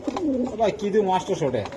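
Pigeons coo softly in a quick, warbling run of short calls, close by.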